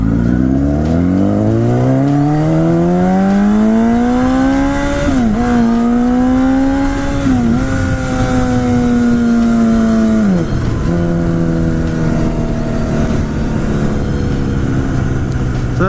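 A Honda Repsol 1000cc motorcycle engine revs hard throughout a ride, loud and close, its pitch climbing through the gears, briefly dropping at shifts and then rising again, with no talking.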